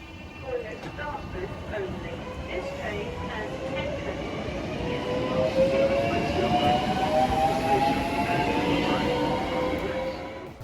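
A Class 465 electric train rumbles and hums, its original GEC Alstom traction motors giving a distinct rising whine that climbs in pitch as it gathers speed, with a faint voice in places.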